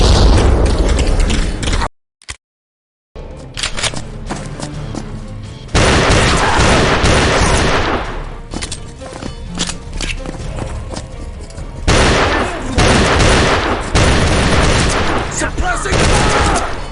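Dense gunfire and booming explosions in a wartime shooter video game pound almost continuously, with a brief silent gap early on, and voices shout over the combat.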